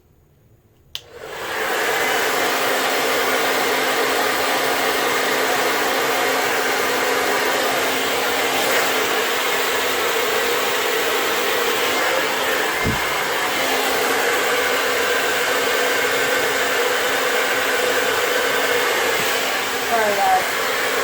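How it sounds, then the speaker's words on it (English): A hair dryer blows steadily at close range while drying micro locs at the inside, shaft and roots, switching on after a second and running loud and continuous to the end. "I'm not blow drying my ends, just the inside, the shaft and the roots."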